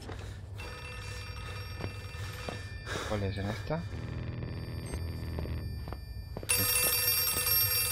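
A telephone rings in the horror game Outlast 2, a repeated trilling electronic ring over a dark ambient hum, with someone speaking Spanish over it and a harsh noise flaring up near the end.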